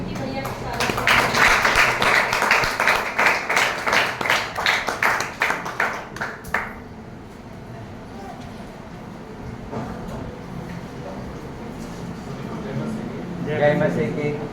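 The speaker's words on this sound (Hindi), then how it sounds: "ताली बजा के विक्की भैया को स्वागत करते हैं।" A church congregation applauds in rapid, loud clapping for about six seconds to welcome the pastor, then the applause stops and a quieter murmur of the room remains.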